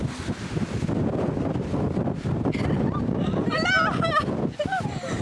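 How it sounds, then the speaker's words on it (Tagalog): Strong wind buffets the microphone in continuous roaring gusts, with a few faint voices breaking through in the background. "Tinutulak talaga kami ng hangin."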